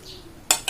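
Spicy noodles being mixed in a bowl, heard as a faint hum followed by two sharp clinks of utensil against dish near the end, close and bright.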